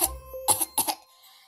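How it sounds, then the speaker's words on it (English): A single person coughs in a short burst of three or four harsh, close coughs, preceded by a throat-clearing sound, then quiet. "Tsuro coughed."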